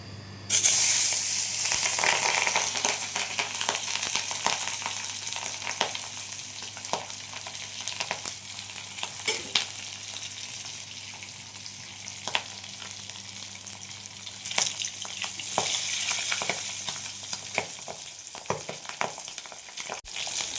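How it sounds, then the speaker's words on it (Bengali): Pabda fish fry in hot oil, giving a continuous close sizzle with scattered crackles and spatula scrapes, swelling loud at the start and again midway before fading, with no voices. "মাছটা ভাজা হয়ে গেছে, আমি এবার তুলে নেব। এইভাবে সব মাছগুলো আমি ভেজে নেব।"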